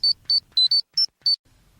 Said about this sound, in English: Back after the beeps.